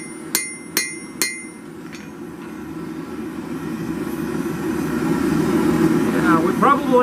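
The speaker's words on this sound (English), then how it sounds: "we're close to finishing the edge beveling and the rough forging" Three sharp hammer strikes on hot steel ring out near the start of a rough blade-forging session, spaced about half a second apart, then a steady low hum with faint talk carries on to the end.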